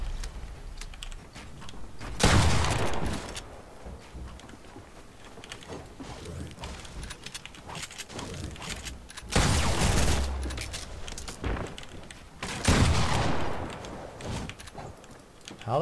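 Gunshots in Fortnite Battle Royale, three loud sharp bursts spaced several seconds apart against a low background of game noise.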